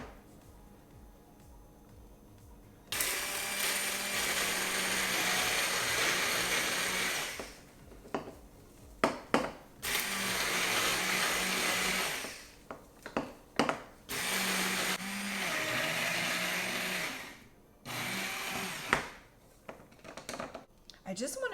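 Handheld mixer grinding dehydrated tomato skins in a container, a loud steady whirring that runs in several long bursts with brief pauses, with a voice talking in the gaps.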